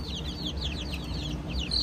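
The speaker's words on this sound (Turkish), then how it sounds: "Civcivler de çok acıkmış." Hungry chicks on a hobby farm, a rapid series of high cheeping and clucking calls over a low, steady background rumble, fairly close and continuous, with no talking.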